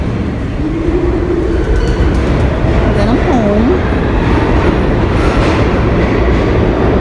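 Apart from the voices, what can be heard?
subway train in a New York station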